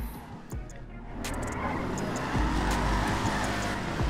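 Ford Mustang SVT muscle car engine in GTA Online, a steady low roar that rises as it revs up, with a few tyre and road noises over it and no talk heard.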